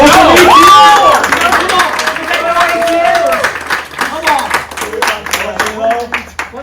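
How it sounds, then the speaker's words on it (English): Audience applause and cheering at a Survivor Wisconsin season finale, a loud burst of clapping with crowd chatter mixed in, fading gradually as voices take over. "So give her a round of applause."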